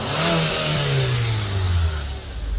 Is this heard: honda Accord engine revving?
yes